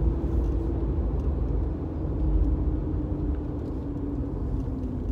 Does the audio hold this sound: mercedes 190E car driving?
yes